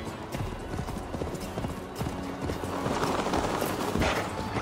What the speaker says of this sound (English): Faster, Eivor! Ride like Sleipnir's hooves!